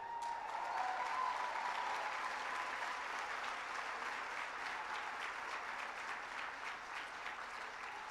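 An audience at a Los Angeles gala claps in a long, steady round of applause that swells early and slowly tapers, with no talking.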